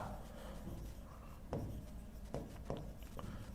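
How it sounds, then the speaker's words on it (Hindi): Chalk or marker scratches across a board during a biology lesson, producing soft rubbing strokes with a few sharper taps, faint against a low room hum, with no talking. "लिख देता हूं मैं यहां पे"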